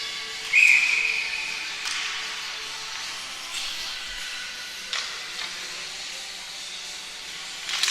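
A short sharp whistle blast rings out early at a women's under-18 ice hockey game, then fades into a hissy crowd and arena hum with scattered knocks.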